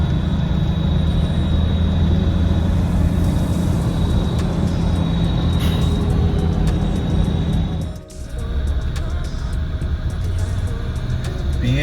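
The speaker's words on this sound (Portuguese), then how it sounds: "O trânsito é caótico aqui" Chaotic city traffic in Abidjan, Ivory Coast, fills the air as a dense, loud, continuous rumble of engines and road noise, briefly dipping before surging back.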